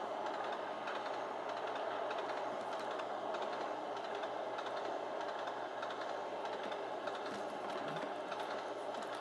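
An Acela Express train in Trainz Simulator 2 cruises at about 110 mph along a rail corridor, giving a steady, even rumble with a faint clicking texture that runs the whole time, with no voices over it.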